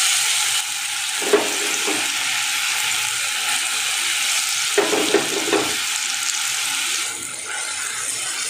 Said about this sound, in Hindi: अदरक लहसुन का पेस्ट को डाल देंगे।